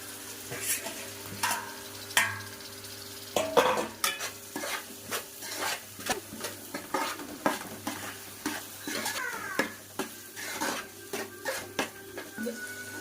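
Cut tomato pieces sizzling in ginger garlic paste in a pan while being stirred for a fish curry, with soft frying crackle under repeated scraping and clinking of a utensil against the cookware.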